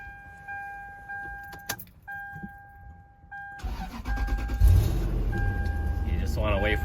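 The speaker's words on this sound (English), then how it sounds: "Can you hop in the vehicle and start it for us?" A Lexus LX470 starts after an oil change: a steady warning chime and key jingle, then the engine cranks and catches into a loud, close idle that holds steady, with a voice speaking briefly over it.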